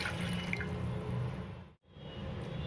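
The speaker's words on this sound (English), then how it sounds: "I have added 2 cups of water" Water poured steadily into a cooking pot for a homemade kaadha, a continuous splashing pour with a brief pause near the end, fairly quiet and with no talking.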